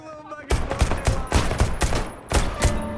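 Rapid bursts of video game gunfire rattle out close and loud, several quick volleys of sharp shots separated by short pauses.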